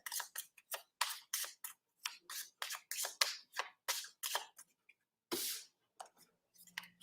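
Someone shuffles a prototype Lenormand card deck close up, producing a quick series of crisp riffling bursts separated by short pauses, with a single longer riffle near the end and no talking.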